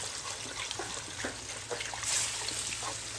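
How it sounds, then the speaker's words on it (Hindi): Water is poured steadily into a cooking pot on a stove, giving a continuous trickling, splashing stream heard close up for a few seconds with no voices. "3 लीटर हमने इसमें डालना है पानी"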